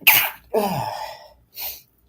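A single sharp sneeze, close and loud, followed by a softer voiced exhale and a brief breathy sound.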